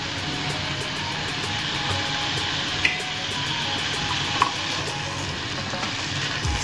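Fried chicken rice stirred in a pan after vinegar and soy sauce are added, giving a steady, close sizzle with soft scraping and a couple of brief clinks.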